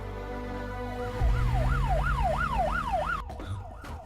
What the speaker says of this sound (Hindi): ये तो पुलिस का सायरन है।